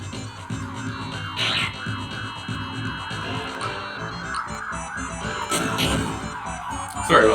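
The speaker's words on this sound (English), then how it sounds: "Sorry about the sirens." Emergency vehicle sirens wail past on a busy street, several rising and falling tones overlapping with traffic noise, moderately loud and continuous throughout.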